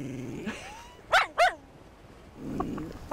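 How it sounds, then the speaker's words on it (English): Dogs in Siberia give two sharp, close barks in quick succession, with fainter whines and yips before and after in a quiet outdoor setting. "when the other dogs are all going, hur, hur"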